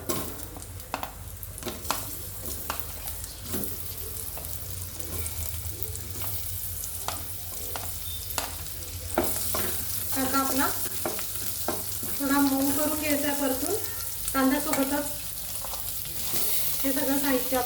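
Chopped onion hits hot oil in a pan for restaurant-style malai kofta curry and sizzles steadily, with a spoon scraping and stirring in repeated strokes. The frying grows louder partway through, and a voice talks quietly underneath.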